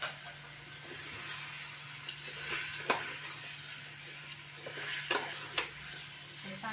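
Chicken soup ingredients with fresh coriander are stir-fried in a pan, with a low steady sizzle broken by several distinct spoon scrapes and taps against the metal; quiet, no talking.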